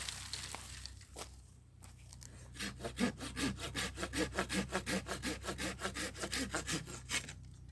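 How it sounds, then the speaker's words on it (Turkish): Hand saw cutting almond tree branches for grafting, a fast, even back-and-forth rasp of roughly twenty close strokes after a few scraping sounds, with no talking. "Şöyle düz bir şekilde üçünü birden kestim."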